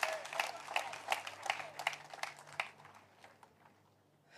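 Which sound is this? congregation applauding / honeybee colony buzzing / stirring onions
congregation applauding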